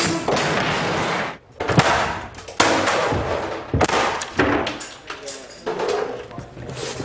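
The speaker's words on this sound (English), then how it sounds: "All these wires are connected to all the squibs that are throughout the set, different segments." Squib hits firing across a film set, a rapid irregular string of sharp cracks and pops, some close and loud, with voices talking between and under the bursts.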